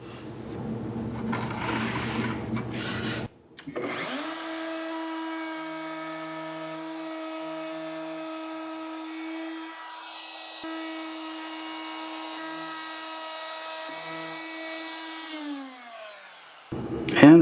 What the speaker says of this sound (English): I'll just route out a little opening there.